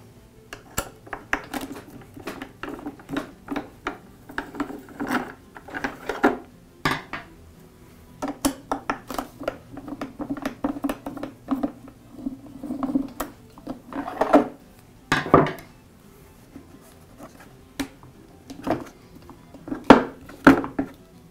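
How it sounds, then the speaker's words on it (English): Two screws being backed out of the top handle on an air compressor pump, heard as a run of small metallic clicks, clinks and taps from a screwdriver and loose hardware, close and fairly busy throughout. "Now I'll remove the two screws that secure the top handle to the pump."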